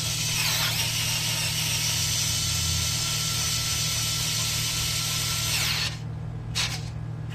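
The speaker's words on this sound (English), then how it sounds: "I'm going to drill it back in." A Mi cordless screwdriver driving a screw back in, a steady loud motor whine running for about six seconds before stopping, followed by a couple of short bursts.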